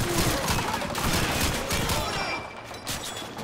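Dense, sustained gunfire from Call of Duty 2 on Hill 400, German troops pushing past the line, a continuous crackling barrage of overlapping shots that eases slightly toward the end, with no talking over it.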